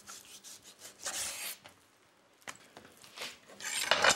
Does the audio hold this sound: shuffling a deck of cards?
no